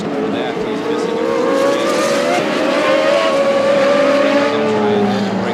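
A March IndyCar with a Chevrolet engine races at Mid-Ohio in 1986, its loud high-pitched engine note rising and sweeping steadily through the clip, with a commentator talking over it.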